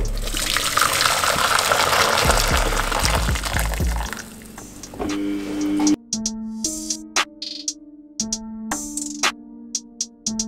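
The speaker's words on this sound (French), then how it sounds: "pour faire cuire du riz il faut mettre de l'eau" Water poured into a cooking pot to boil rice, a steady close gush for the first several seconds that trails off, followed by unrelated musical tones.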